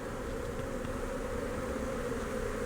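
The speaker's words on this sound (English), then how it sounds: "Bees, that's what it is." Honeybees buzz steadily at a hive, including bees fanning at the entrance, as a continuous, even drone without pauses.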